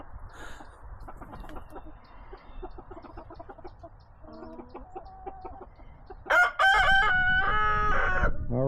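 A backyard chicken named Lila, a friendly hen, clucks softly and intermittently, then bursts into loud, close crowing and squawking near the end.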